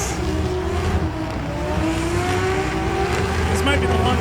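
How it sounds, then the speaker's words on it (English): Holden VL Turbo doing a burnout at an LZ World Tour event in Canada, engine held at a steady high roar with rising pitch and tire noise, under a commentator's voice. "We are smoking some tires"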